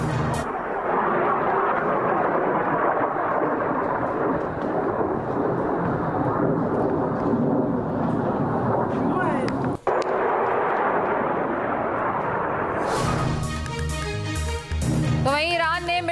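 Missiles over Tel Aviv during an Iranian attack, heard as a continuous loud, rumbling roar with deep thunder-like booms, ending in a burst of sharper crackling impacts.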